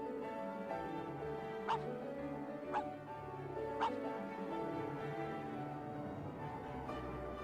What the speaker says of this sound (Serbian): štene